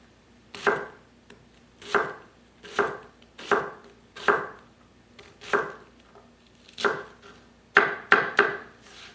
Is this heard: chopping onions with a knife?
yes